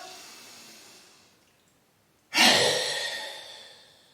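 A deep, steady inhale during a throat chakra breathing exercise, drawn in sharply and then held as a long airy rush close to the ear after a brief fading breath and a moment of quiet.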